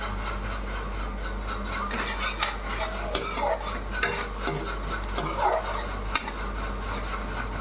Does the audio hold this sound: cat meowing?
no